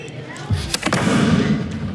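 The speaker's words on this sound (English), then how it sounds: "This is what they're shooting at the mortar." A homemade mortar built from fence tubing fires during street protests in Nicaragua, giving a loud close thump and blast followed by sustained rumble and crackle with noisy outdoor background.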